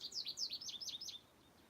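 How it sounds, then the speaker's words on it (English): A house finch warbles a quick run of bright, rising and falling chirps, close and clear for about a second before the song breaks off into quiet outdoor ambience. "It's house finches, and that one over there is a goldfinch. Oh, he's the one singing away."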